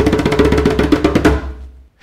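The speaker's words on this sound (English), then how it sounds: "So the djembe drum makes a what sound?" Djembe drum struck in a quick run of about a dozen hits, booming low strokes mixed with sharper slaps, close and loud, ending in a brief fading ring before silence.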